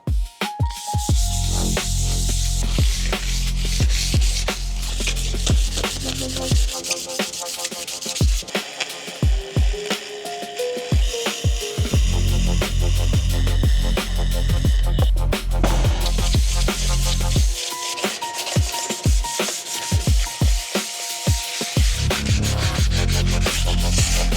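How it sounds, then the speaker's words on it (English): Drift kart parts sanded by hand with sandpaper make loud, close, rhythmic scratchy strokes repeating across the whole stretch, with short pauses between passes and no talking. "Time to do it the old-fashioned way on the larger areas with sandpaper"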